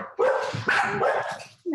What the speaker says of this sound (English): my dogs are going to bark like mad because I see my daughter coming into the door